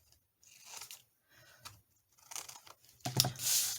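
Scissors cut paper for the back of an envelope in a handful of quiet, close snips and crinkles, separated by short silences, with a louder cut at the end.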